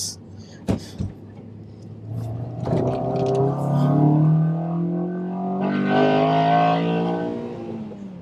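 A Honda Accord Euro R CL7 with a K20A VTEC engine revs hard and climbs through the rev range, loud and close, with a steady rising howl that swells after a couple of brief blips.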